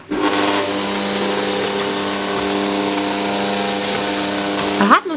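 An electric mixer beats tiramisu cream at a lowered speed with a steady, droning motor whir that holds evenly and close. A brief knock and a shift in tone come right at the end.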